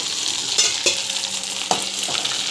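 Food frying and being stirred in hot oil in a pan over a low flame, a steady sizzle broken by several brief scraping clatters of the stirring utensil.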